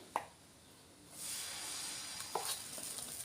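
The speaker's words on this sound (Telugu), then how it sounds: "పిండి వేసుకొని మళ్ళీ సేమ్ అదే విధంగా దోశ వేసుకోవాలండి" Dosa batter spread on a hot pan wiped with onion, a soft sizzle rising after a faint tap and holding steady with light crackles, close and fairly quiet.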